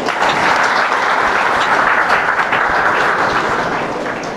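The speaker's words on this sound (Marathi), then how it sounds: "ह्यानीच आपण टाळ्यांचा गजर करूया" Sustained applause from an audience at a school's gratitude ceremony for an inter-school yogasan competition, steady and dense clapping filling the room without a break.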